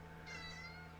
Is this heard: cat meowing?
yes